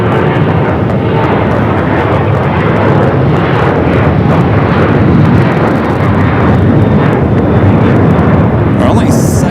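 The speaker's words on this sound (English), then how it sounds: "All right, that A330 up next for takeoff." An Airbus A330 heavy jet takes off at Phoenix Sky Harbor airport, a loud, sustained engine roar that holds steady through the whole stretch, with a voice talking over it.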